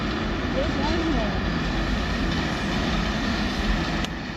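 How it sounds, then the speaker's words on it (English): A rack train rumbles steadily on its climb near Santuari de Núria in the Catalan Pyrenees, a constant close mechanical drone with people talking over it. "It's really something, this train."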